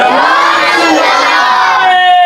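A large crowd at a naat gathering shouts the religious chant "Naara-e-Risalat" loudly in unison, many voices blending into one sustained roar.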